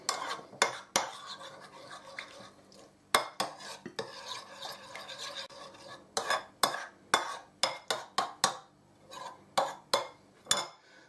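Prawn cocktail sauce is mixed in a bowl, a spoon scraping and clinking against the sides in uneven bursts, close and clear with no talk.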